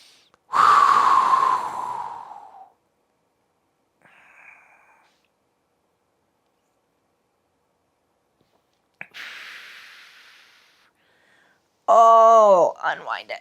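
Deep, audible breaths during a floor-based morning yoga stretch, with a long loud exhale near the start, softer breaths later and a brief voiced sigh at the end.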